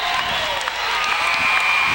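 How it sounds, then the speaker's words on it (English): Home crowd cheering at a college basketball game between Bernie and Dexter, a steady, dense roar of voices filling the arena for the full two seconds, with no clear break or single standout shout. "Crowd's back into it. Sure the home crowd is."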